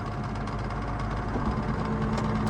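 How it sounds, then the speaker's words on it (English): A loader tractor engine idles steadily nearby, a low rumbling chug with a constant rhythmic knock and no voices. "Since we got a loader tractor running right now"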